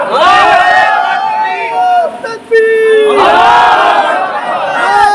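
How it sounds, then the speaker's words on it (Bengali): A large crowd at a religious rally in Bangladesh chants the takbir, "Allahu Akbar," in loud, unified waves of voices, with a brief pause between two surging call-outs. "তোমরা আল্লাহর নামে তাকবীর দাও, এটা তাকবীর দাও"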